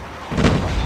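Grenade blast in Call of Duty, a single dull boom that swells suddenly and lingers as a rumbling wash under the rest of the match noise.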